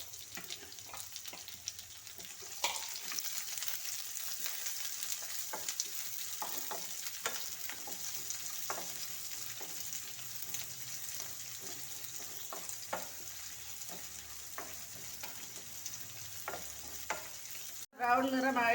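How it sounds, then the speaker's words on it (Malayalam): Chopped onions sauté and sizzle in a hot pan for a green peas and potato masala curry, a steady frying hiss broken by occasional clinks and stirring scrapes, with a brief louder burst at the very end. "ഇതിലേക്ക് സവാള ചേർത്ത് വഴറ്റാം."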